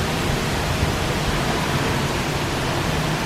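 Heavy rain pouring steadily onto a cruise ship deck, a dense, even hiss with no breaks across the whole span.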